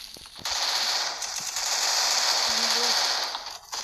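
A sustained burst of rapid automatic gunfire in the game Free Fire, steady and dense for about three seconds, with faint clicks around it.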